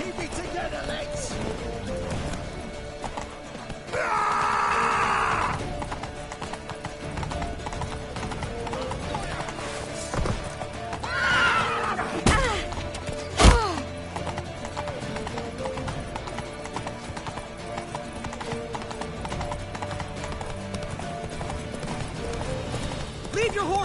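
Horses in The Witcher video game neigh and clatter their hooves amid a chaotic battle scene, with steady clip-clopping, a loud whinny or two, crashes and shouting voices over the din.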